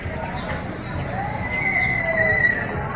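Small horses at an adventure park in San Juan let out a faint, drawn-out whinny amid outdoor ambience, with voices talking nearby.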